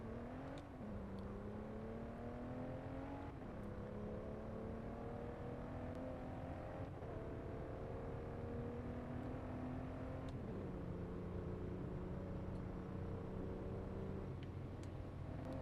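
A race car engine in a video game revs up through repeated gear shifts, the pitch climbing and dropping back at each change, steady and loud throughout.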